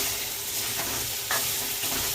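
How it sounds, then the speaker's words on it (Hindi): Homemade masala stirred and roasted in ghee gives a steady close sizzle, with a brief louder scrape of the spoon partway through and no talking. "अब हम इसे 1 से 2 मिनट के लिए अच्छी तरह से इसे मिक्स कर भून लेंगे"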